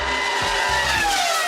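A V10-era Formula 1 car engine screams at high revs near 20,000 rpm, a loud, steady, sustained wail with a shifting pitch and no voices.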